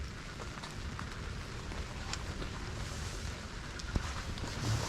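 Rain patters steadily on a campsite tarp in Tyler State Park, a soft continuous drumming with occasional louder drops and a low rumble of wind.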